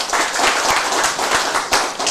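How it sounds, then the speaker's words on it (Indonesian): Studio audience applauding during an Indonesian evening television variety show, a steady dense wash of clapping filling the whole moment, fairly loud and continuous without talk. "Boleh tepuk tangannya?"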